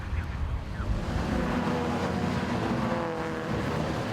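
1950s Intermarque race cars racing at Castle Combe circuit, their engines droning as a group in the distance, faint and steady with some wind noise.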